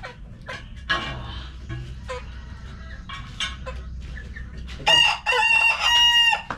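A rooster crows loudly near the end after quieter stretches of faint background sounds and brief clucks.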